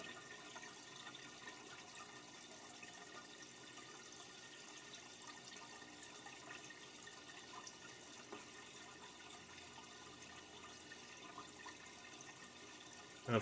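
A pump circulates water through a car's intercooler system chilled with dry ice, a steady faint rushing and trickling flow that continues evenly throughout.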